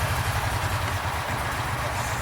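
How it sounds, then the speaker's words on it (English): The fuel-injected engine of a Kawasaki Mule 4010 Trans 4x4 utility vehicle runs at a steady, loud, close idle, with an even low rumble throughout and no voices. "these are fuel injected, so you just turn the key and crank them up"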